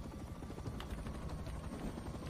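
A video game helicopter's steady rotor thrum with a low, pulsing drone, holding at an even loudness throughout.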